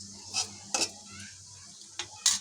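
Dry chili, nigella seed, cumin and bay leaf fry in a pan while a utensil stirs them, giving a low, steady sizzle. A few sharp metallic scrapes and clinks against the pan break through at intervals.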